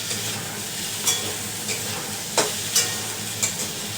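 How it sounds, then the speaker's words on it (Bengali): Prawns frying in hot oil in a pan, with a continuous sizzle and several sharp stirring clanks and pops spaced across the few seconds, close and fairly loud, no talking. "চিংড়িগুলো নিয়ে আসছে আমার কথা ধুয়ে দিল এবার এটা ভেজে নিই"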